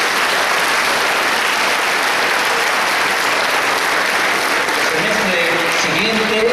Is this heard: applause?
yes